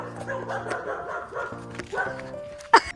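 A dog barks and yips close by in a village, a run of short woofs mixed with whining whimpers, ending in one sharp, loud yelp.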